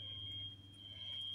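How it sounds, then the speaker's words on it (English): A smoke detector alarm goes off somewhere nearby in a backyard garden, a steady high-pitched electronic tone that holds without a break for the whole moment, heard a little distant beneath low outdoor background hum. "someone's smoke detector is going off"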